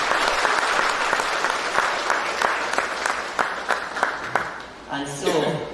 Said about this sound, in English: Please give a round of applause for them.